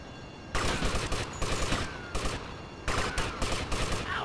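Gunfire in GTA Vice City comes in two dense bursts of rapid shots, loud and close, separated by a short pause.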